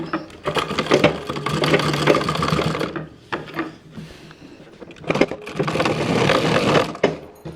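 A sewing machine stitches folded blouse fabric in two long bursts of rapid, buzzing mechanical running, with a brief pause and rustling handling of the cloth between them.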